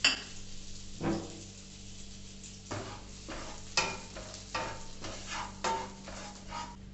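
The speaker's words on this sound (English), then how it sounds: "Now let's add the maida and roast it" Maida flour roasts in butter in a pan over low flame for white sauce pasta, with a spoon scraping and stirring in several distinct strokes above a soft, steady sizzle, close by and with no voices.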